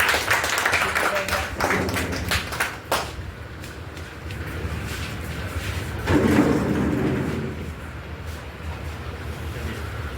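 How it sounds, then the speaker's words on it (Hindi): An audience at a farmers' wing political rally claps to welcome the speakers, a burst of scattered sharp claps over the first few seconds, followed by a crowd murmur and a voice over a microphone. "तालियों से स्वागत हो हमारे"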